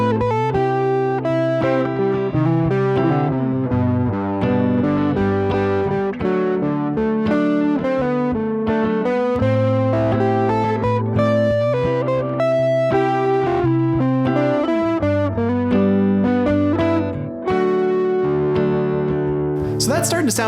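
Guitar phrases weaving non-chord tones between chord tones, borrowing notes from the parent major scale, played as a continuous melodic line over chords with clear, sustained notes and no talking.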